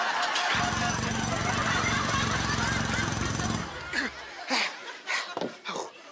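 A drill sound effect used as a comedy gag in a children's TV sketch: a loud, steady buzzing whine runs for about three seconds, then cuts off, followed by bursts of audience laughter.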